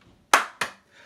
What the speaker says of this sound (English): Two claps on this side.